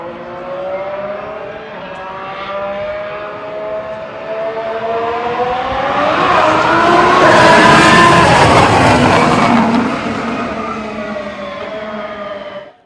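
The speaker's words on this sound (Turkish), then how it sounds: "Ferrari motorunun o boğukluğu gerçekten muazzam bir ses" Ferrari Formula 1 car engine on the start straight, a loud high-pitched whine with rising and falling harmonics that swells to a peak as it passes close by, then fades slightly.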